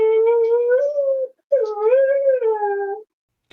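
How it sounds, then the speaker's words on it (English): Husky dog howling in two long, wavering tonal calls with a short gap between them, close and clear with no other sounds. "That's a husky."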